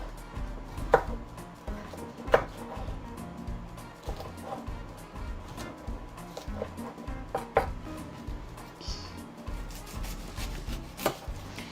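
A knife chops onion on a cutting board in a kitchen cooking demonstration, a quiet series of irregular close taps and thuds with a faint background hum.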